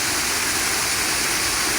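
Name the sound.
waterfall along Morrison Brook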